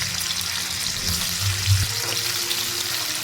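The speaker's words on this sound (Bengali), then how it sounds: "তেলটা গরম হয়ে গিয়েছে, তাই এখন আমি এর মধ্যে পনিরের টুকরোগুলোকে দিয়ে দিচ্ছি।" Paneer pieces fry in hot white oil in a wok, giving a steady hiss and sizzle with a low bubbling rumble underneath, close and even throughout.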